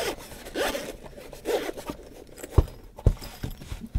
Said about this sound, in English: Zip up pocket with some mesh.